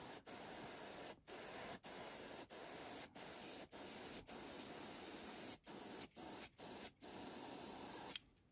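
Airbrush spraying paint onto the crown of a custom 130 jerkbait lure in a cherry bomb scheme: a steady close hiss broken by about a dozen brief pauses as the trigger is released, with no talking.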